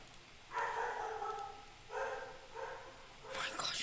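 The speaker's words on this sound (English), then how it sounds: "Oh my gosh, these dogs" Dogs bark in a few loud, drawn-out bursts spread over several seconds, mixed with someone talking nearby.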